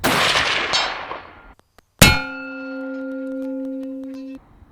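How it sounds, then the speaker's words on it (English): A rifle test shot strikes a steel target, giving one sharp metallic clang that rings on with steady bell-like tones for about two seconds before cutting off, following a brief rustle. "He's gonna take a test shot at at the steel target to make sure the rifle's on"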